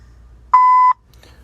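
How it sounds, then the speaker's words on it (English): A single steady electronic tone from a voicemail system sounds for about half a second, clear and loud against near silence. "Continue recording your message at the tone."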